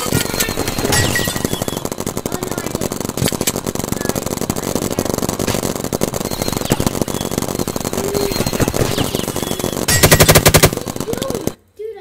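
A fast-firing paintball gun during an outdoor paintball game cracks out rapid continuous bursts, loud and close, with a denser volley near the end before cutting off.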